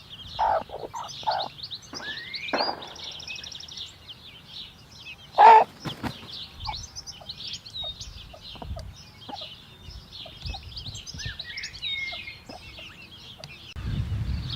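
A broody hen clucks repeatedly at close range, calling to her young chicks, which peep in high, scattered chirps all around, with a few louder calls mixed in.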